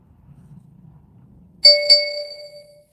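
Two quick bright chime tones of a notification sound ring out clearly after a faint low murmur, then decay with a lingering resonant tail.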